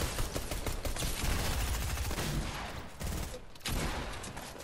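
Dense, continuous gunfire from a Fortnite match rattles on without pause, loud and close, with a brief dip near the end before the shots pick up again.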